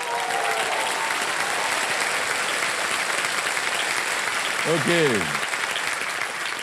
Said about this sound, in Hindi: हाँ, तो एक बार ताली बजाइए ना।